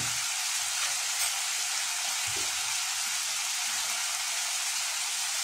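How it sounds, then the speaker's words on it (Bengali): Ginger and garlic paste fries in a pan for a chicken and vegetable dish, giving a steady, close hiss of sizzling oil that runs unbroken throughout, with a few faint stirring knocks and no talk. "তো আদা রসুন দিয়ে একটু ভেজে নিই"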